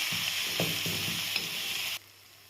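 Steady sizzling of grated raw mango frying in a pan, with a few soft stirring scrapes, close up, cutting off abruptly near the end.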